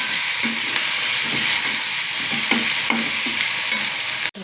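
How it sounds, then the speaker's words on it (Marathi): Semolina (rava) being roasted and stirred in a pan for upma, a steady close sizzle with soft periodic scraping strokes throughout, no talk. "आपल्याला रवा घालून घ्यायचा आहे आणि तो छान परतायचा आहे।"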